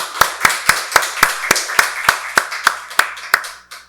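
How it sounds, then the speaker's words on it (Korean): A church congregation at a Sunday worship service claps in unison, a loud, regular rhythmic beat of about four claps per second, close and without any talk over it. "박수로 하나님께 영광 돌리겠습니다"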